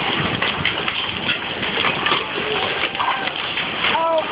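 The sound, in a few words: hailstones hitting the sea water during a beach thunderstorm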